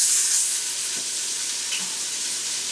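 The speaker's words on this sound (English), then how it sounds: "If you hear it sizzling that hard" Chopped onion hits a warm stock pot for pork posole green chili stew, giving a steady, close, fairly loud sizzle with a faint hiss, no voices.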